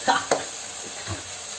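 Tomatoes cook in a hot pan, a low steady sizzle with a couple of sharp spatula scrapes and stirring clinks near the start, then quieter frying.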